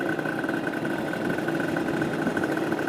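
A Kawasaki Ninja RR two-stroke motorcycle runs on a test ride after a new carburetor needle was fitted, its engine droning loud and steady at a constant pace with no talk.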